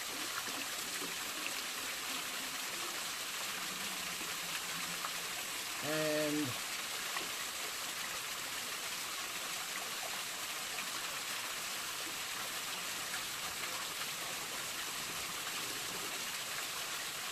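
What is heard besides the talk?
filling a container with water from a mountain stream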